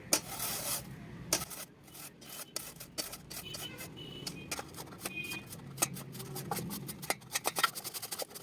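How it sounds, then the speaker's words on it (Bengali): A raw potato is rubbed over a grater into long strips, giving close, quick rasping strokes in an irregular series with short gaps and no talking. "আমি লম্বা লম্বা করে আলুটা এখন ঘষে নেব।"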